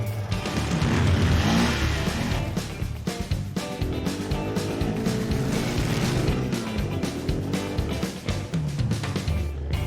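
Car driving off-road through lush forest, an engine droning and surging close by under bumps and rattles, with no clear talk.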